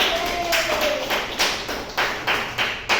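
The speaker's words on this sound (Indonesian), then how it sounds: "tepuk tangan buat Ayu." A small group in a microteaching classroom lesson on plant-like protists claps briefly for a student. Sparse, close hand claps come in a loose, regular rhythm of distinct slaps rather than a full roar.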